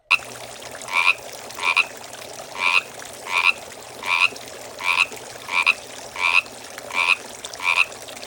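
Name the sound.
frog croaking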